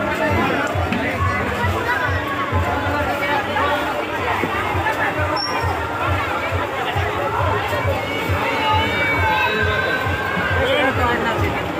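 Dense, steady hubbub of a large crowd at the Harina fair in the mid-afternoon, many overlapping voices blending into a continuous close babble with no single speaker standing out.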